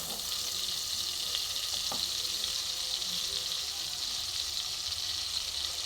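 A spoonful of butter melts in a hot pan for mango rice, giving a steady, fairly loud sizzle and crackle that runs unbroken throughout, with faint clinks now and then and no voices.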